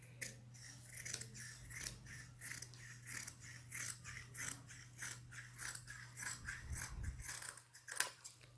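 Scissors snipping through fabric to cut a kurti sleeve at a tailoring table, a steady run of crisp close blade snips repeating roughly every half second, with a low electrical hum underneath.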